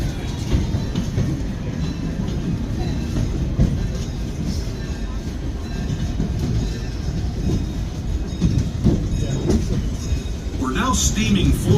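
A Disneyland train rolls along with a steady low rumble and clatter of wheels on rails, heard from on board with announcements and chatter over it and some squeaks and clanks near the end.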